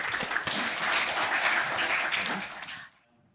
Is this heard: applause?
yes